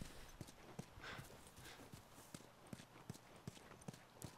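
Horse hooves clip-clop at a steady trotting rhythm in The Last of Us, a regular train of sharp knocks over a busy ambient game background.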